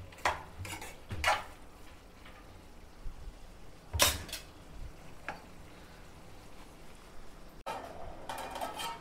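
Food cooks in a pot in a home kitchen, with occasional metallic clinks of a utensil against the pan and a faint bubbling underneath and no talking.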